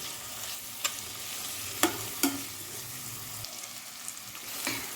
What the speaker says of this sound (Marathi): टाकून घेते एक टोमॅटो जो मी मोठा मोठा कट करून घेतलेला आहे याला मस्त फ्राय करून घेऊ आपण